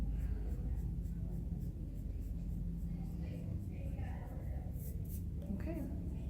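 Pencil drawing a knight head on paper, a soft, continuous scratchy scribbling close by, with faint talk in the background.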